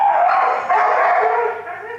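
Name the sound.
Chihuahua puppy barking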